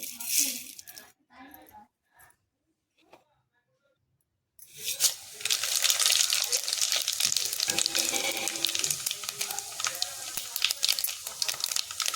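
Mustard seeds, dried red chillies and cumin crackle and sizzle in hot oil for tempering, a dense loud spatter that starts suddenly after a few quiet seconds of scattered soft taps and clinks.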